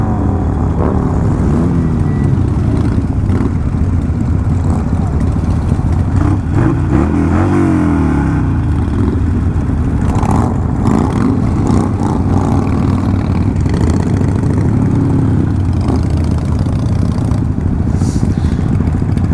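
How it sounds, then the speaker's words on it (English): Heavy road traffic crawls through Blackpool at night during the Illuminations, a loud unbroken rumble of car and motorcycle engines with occasional revving swells and one passing vehicle sweeping by midway. "there seems to be a hell of a lot of traffic here tonight at the start of the Illuminations"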